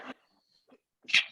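A single sharp human sneeze bursts out after a faint intake of breath in a quiet room, close and fairly loud.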